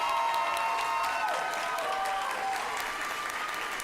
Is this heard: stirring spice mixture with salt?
no